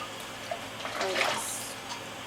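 Running water rinses dyed cotton yarn, a steady close rush of tap water with a brief surge of splashing in the middle.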